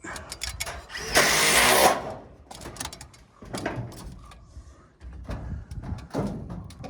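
A power drill drives screws into old metal roofing on a wooden shed, giving one loud sustained burst of whirring followed by scattered clanks and knocks on the roof.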